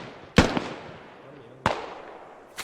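Two grenade blasts in a competitive shooter match, each a sharp, loud burst followed by a brief rumbling decay, spaced about a second apart.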